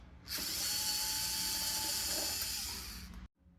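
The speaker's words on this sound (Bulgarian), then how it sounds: "Започваме с премахването на страничните винтове, които държат предпазния капак." A power screwdriver backs out the side screws on the protective cover of a Sorotec hybrid inverter, one close, continuous whirring run of about three seconds that cuts off abruptly, with no talk.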